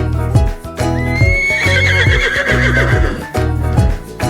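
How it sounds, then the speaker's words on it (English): Horse neighing with a long, shrill whinny that trails off, accompanied by clip-clop hoofbeats and a steady rhythmic musical beat underneath, close and loud. "Horse."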